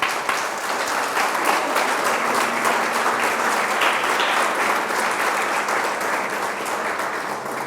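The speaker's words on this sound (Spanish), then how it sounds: "¿Por qué no le das un fuerte aplauso a Dios?" A church congregation claps loudly and steadily in a dense, even wash of applause that holds at full strength for several seconds.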